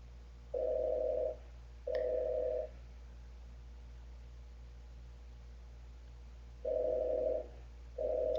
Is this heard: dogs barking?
no